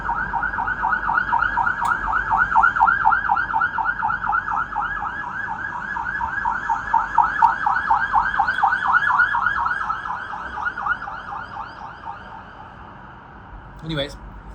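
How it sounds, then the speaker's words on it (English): A police car siren wails steadily and rises and falls as the car goes by at moderate distance. It is loud at first and then fades away, with street background underneath. "there's like a cop going by"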